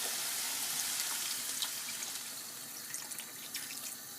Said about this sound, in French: Donc là, je vais rajouter l'eau.